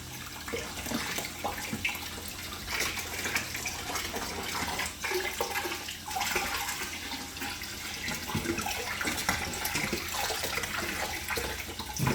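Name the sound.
hose water rinsing turtle tank walls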